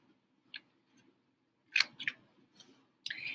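Scissors snip paper along drawn lines to cut out a paper helicopter, a few sharp, close crisp cuts spread out in time with quiet pauses between them and no talking.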